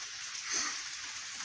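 Rain falls steadily outdoors near a sheltered area, a soft continuous hiss of drops with a few slightly louder patters, fairly faint and without speech.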